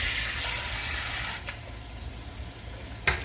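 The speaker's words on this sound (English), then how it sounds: "I'm going to run a little bit of cold water over them" Cold tap water runs over freshly boiled eggs in a pot, a steady close hiss of pouring water with a brief clank near the end.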